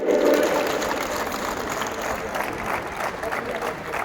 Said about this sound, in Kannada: ಜೋರು ಚಪ್ಪಾಳೆ ಬನ್ನಿ, ಜೋರು ಚಪ್ಪಾಳೆ.